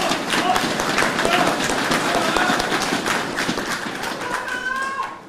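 A crowd applauds at a political event for Hou Yu-ih at the Yimin Temple in Hsinchu, with dense, sustained clapping and some voices mixed in before the applause thins out at the end.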